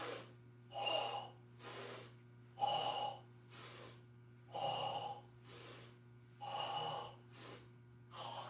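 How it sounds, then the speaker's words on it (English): Rhythmic breathing during a full-body stretching exercise, with sharp inhales and exhales repeating at a steady tempo roughly every second, close and clear over a faint constant hum, with no talk. "Now we're going to pick it up to tempo and do a breathing pattern with it."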